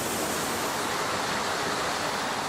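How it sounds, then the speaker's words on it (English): Water flows steadily, driving a Tibetan prayer wheel, a constant broadband rush with no other sounds. "now we see one that is spun by water power"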